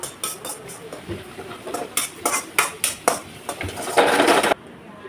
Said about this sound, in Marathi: हे बघा, असं घाटून घ्यायचं सर्व